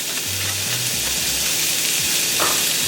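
Thin Steak-umm slices sizzle in a hot pan with softened peppers and onions, giving a steady, close frying hiss with faint stirring.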